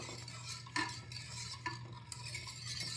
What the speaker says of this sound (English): I'm lifting this up and I'm gonna whisk it.